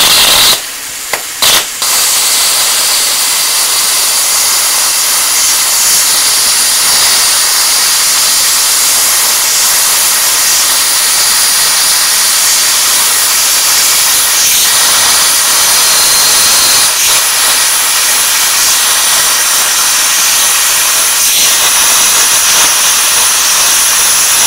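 A plasma cutter slicing through metal at 15 amps with air at 40 PSI gives a loud, steady roaring hiss that runs almost unbroken, with a couple of brief sputters right at the start.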